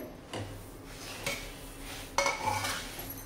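Coconut, sesame and ground peanuts are stirred in a pan for sesame ladoo, giving a few scraping strokes and metallic clinks of a spoon against the pan, close and moderately loud.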